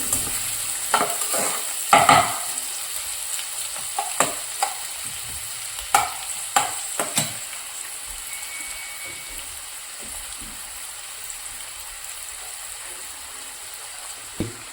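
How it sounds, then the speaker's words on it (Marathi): Chopped onions sizzle and fry in a kadai pan for dhaba-style kadai paneer, with steady crackling and several sharp spoon-stirring scrapes and clinks in the first seven seconds, close by and with no talking. "दोन चॉप केलेले कांदे आहे. हे कांदा थोडा लाल होऊ द्यायचा आहे."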